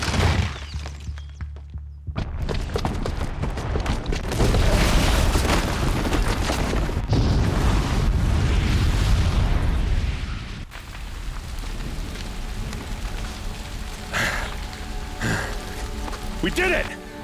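A bomb blast in Horizon Zero Dawn, set off by a booby trap downstairs: a sudden loud burst followed by a long roaring rumble and debris that fades into a quieter tail with scattered clatter.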